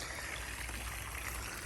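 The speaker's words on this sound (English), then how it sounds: "we've turned the water on" Water running steadily into a fish tank on a farm in Thailand, a continuous close splashing and trickling stream, soft and even with no voices.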